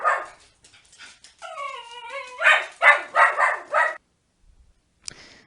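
A pet dog lets out an excited, loud run of yips, then a whining howl, then several sharp barks close to the microphone, followed by brief quiet and a faint click.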